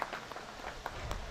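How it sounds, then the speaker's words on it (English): People at a Renaissance festival clap for Becca after a glassblowing-style demonstration, a brief, faint patter of scattered hand claps in an open outdoor setting. "Everyone clap for Becca."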